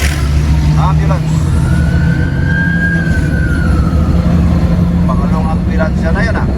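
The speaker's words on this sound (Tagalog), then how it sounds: "Ambulance." Ambulance on a road in Consolacion, Cebu: its siren wails upward and falls away over a few seconds amid nearby road and engine noise.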